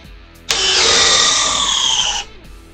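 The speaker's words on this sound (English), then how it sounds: "1¼-inch speed bore through that 4x4-inch lumber there." A hammer drill spins a 1¼-inch speed bore through 4x4 lumber, a loud steady whine that starts abruptly, holds for about two seconds and cuts off, with no one talking over it.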